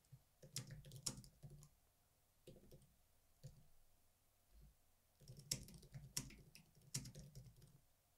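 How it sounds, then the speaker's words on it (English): Typing on a computer keyboard: quiet bursts of fast key clicks in two clusters with a pause between, close and faint, with no voices. "Hannah Lee, type anything you like here."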